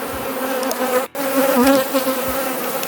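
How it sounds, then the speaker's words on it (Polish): Dense, steady buzzing of many honeybees, loud and close, a continuous droning hum with a brief dip partway through. "Zrobił się niezły harmider, bo odlatują się te pszczoły, które wczoraj przywiozłem."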